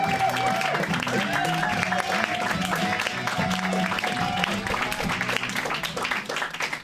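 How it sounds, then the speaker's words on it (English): Comedy club audience applauding and cheering as a stand-up comedian is introduced at a course showcase, the clapping mixed with music and crowd noise throughout. "So let's hear it for Mr. Mike Clarke."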